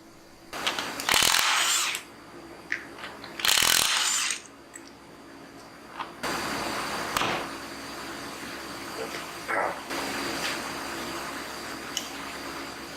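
Metal tools clank and scrape against Jeep axle parts during disassembly, with bursts of a power tool whirring and occasional sharp clinks, close by and intermittent.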